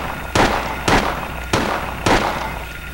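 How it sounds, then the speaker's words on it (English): Four evenly spaced handgun shots ring out in the Silent Hill video game at an elementary school, each a sharp, loud crack with a brief tail, roughly half a second apart. "Yeah, I'll use up some handgun ammo."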